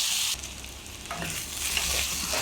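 Okra frying in an open pan while being stirred, a close, continuous sizzle with spatula scrapes and shuffling, shifting in texture as the pieces are turned.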